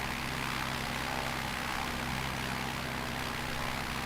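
A light aircraft engine drones steadily in Microsoft Flight Simulator, a constant, loud, even propeller hum with no breaks and no voices.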